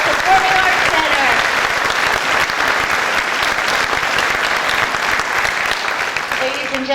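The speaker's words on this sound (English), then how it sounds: "Give her a big round of applause." Sustained, loud applause from a concert audience at a live pops performance in a performing arts center, dense clapping steady for the full stretch with only slight easing near the end.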